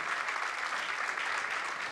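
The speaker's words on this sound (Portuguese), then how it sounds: "essa palma é para as crianças" Congregation applauding in a church as children enter during a service; steady, dense clapping from a sizable crowd, continuous and fairly even throughout, with no voices standing out.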